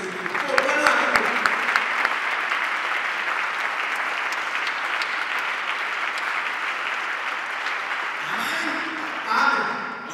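A church congregation applauding and cheering in praise, sustained loud clapping from a large crowd with voices rising over it, continuing steadily for several seconds before shifting toward speech near the end.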